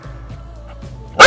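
An abandoned female Belgian Malinois barks at close range in one sudden loud burst at the very end, after a quiet stretch of low room noise.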